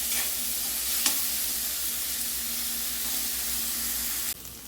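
Chopped onion frying in hot oil with cumin, asafoetida and a little ghee for a matar paneer curry, giving a steady, close sizzle with occasional stirring scrapes and no talking.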